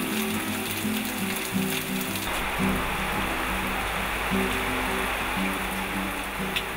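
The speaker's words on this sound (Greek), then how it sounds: "Η πρωινή τροπική βροχή ήταν απρόσμενη και πολύ δυνατή." Heavy tropical morning rain in the Strofades islands, a dense, steady broadband hiss that fills the whole stretch at moderate, even loudness, with a low rumble joining partway through and no voices.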